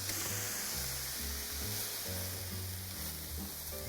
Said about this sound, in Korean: 양념해 놓은 고기를 넣어서 볶겠습니다.